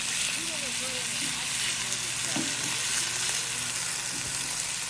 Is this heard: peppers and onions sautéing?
yes